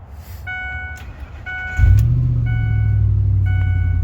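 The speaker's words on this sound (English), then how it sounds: "So let me start the truck up." A Ford F150 pickup's engine cranks and catches, then settles into a steady low idle, preceded by a few regular electronic chime beeps from the dash that continue after start-up.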